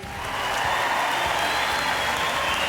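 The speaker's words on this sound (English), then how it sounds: "Let's hear it for Jeff Blue out there" Studio audience applauding at a season-finale television show, a dense, steady wash of clapping that swells in and holds loud and close throughout, with no voices over it.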